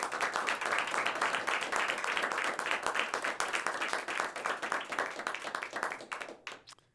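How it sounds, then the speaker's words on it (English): A studio audience claps at the end of a TV show, with fast, dense, rhythmic hand claps that hold steady and then break into a few scattered claps before stopping. "Give yourselves one last round of applause"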